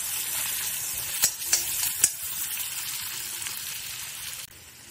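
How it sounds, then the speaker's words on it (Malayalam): Garlic and ginger sautéing in hot butter for kadai paneer, a steady close sizzle with a few sharp clicks and pops from stirring early on, fading slightly at the end; no one speaks. "ബട്ടർ നന്നായി ചൂടായി കഴിയുമ്പോൾ നമ്മൾ നേരത്തെ തയ്യാറാക്കി വെച്ചിരുന്ന വെളുത്തുള്ളിയും ഇഞ്ചിയും കൂടി ഇട്ടിട്ട് നന്നായിട്ട് ഒന്ന് വഴറ്റി എടുക്കുക."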